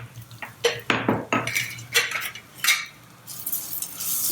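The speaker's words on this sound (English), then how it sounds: "Saute them together" Plain sevai sautéed in a pan with broken cashew pieces, curry leaves, crushed pepper and jeera, a spoon scraping and clinking against the pan in quick, irregular strokes, close and clear with no talk.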